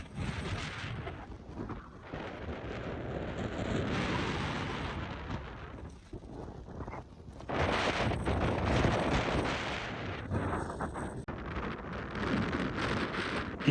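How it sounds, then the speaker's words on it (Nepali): Strong wind gusts roar across a steep hill climb in Upper Mustang. A loud, buffeting rush rises and falls over the whole stretch, with heavy blasts in the middle and the rough noise continuing to the end. "एकदमै हावा चलेर एकदमै गाह्रो भइरहेछ"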